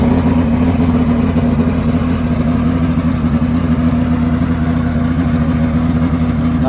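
A turbo drag motorcycle performs a burnout at a drag strip, its engine held at high revs in a loud, close, continuous drone with no talking.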